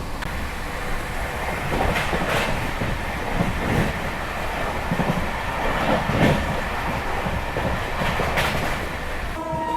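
An Amrit Bharat Express sleeper train running steadily at 130 km/h, heard from inside as a loud continuous rumble with rhythmic clickety-clack of wheels over rail joints and occasional brighter rattles.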